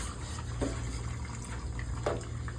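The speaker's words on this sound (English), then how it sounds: "Brush both handles in between on the base, the shaft. And rinse those off." Instruments are rinsed under a running tap, giving a steady close hiss of flowing water with brief splashes as items pass through the stream.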